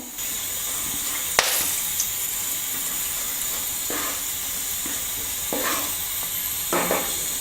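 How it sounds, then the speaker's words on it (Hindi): Cumin seeds sizzle in hot oil, a continuous close frying hiss with occasional sharper crackles and spatters as they are stirred. "हमारा ऑयल भी गर्म हो चुका है। अब इसमें हम जीरा डाल देंगे।"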